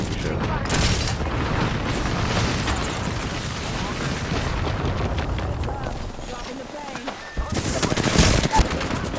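Dense automatic gunfire and booming shots in an Apex Legends-style battle royale match, loud and continuous with rapid bursts, and a player talking over the shooting.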